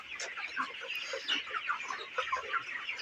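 Broiler chickens on a farm cluck in a dense, continuous chorus of overlapping soft calls, a steady flock murmur with no voices.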